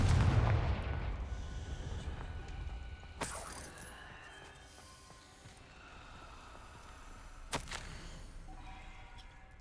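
Fiery Confringo spell explosion in Hogwarts Legacy on PS5, heard as a burst with a rumbling tail, then two sharp cracking impacts a few seconds apart over a quiet game ambience.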